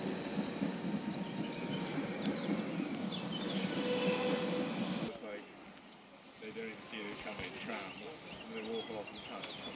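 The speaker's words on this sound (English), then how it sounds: "That's the other train." A train passes the Barnes No.2 level crossing in Greater London with a steady rumble and rolling wheel noise that drops away midway, followed by quieter ambience.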